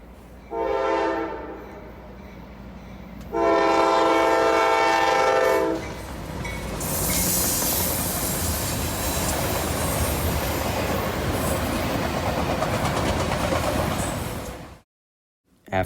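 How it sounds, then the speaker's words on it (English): A CSX autorack freight train led by a GE locomotive passes in Waycross, Georgia. Two loud horn blasts come first, then the cars roll by in a long, steady rumble with clattering wheels and some squealing. "another CSX auto rack train came in, led by one GE"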